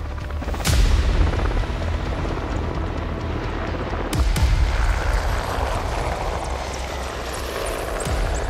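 A helicopter flying in the mountains of Svaneti, with a loud continuous rotor and engine roar close by and heavy low thumping. Strong swooshing surges come through at intervals, and no voices are heard.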